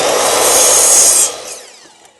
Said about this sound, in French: Je vais aligner ma scie avec mon trait.